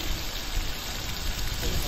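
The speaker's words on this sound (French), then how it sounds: "pour simuler l'utilisation des pavés par temps de pluie, on va ouvrir la vanne" Water gushing from an opened valve onto porous paving stones to simulate rain, a dense continuous rushing hiss, loud and close.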